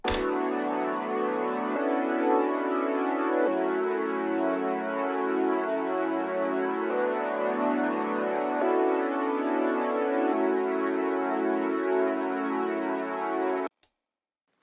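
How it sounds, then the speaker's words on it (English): Sustained synthesizer pad chords move through a slow progression, each chord held a couple of seconds, smooth and full with no voices. "we have this second pad that comes in just to add a bit of thickness"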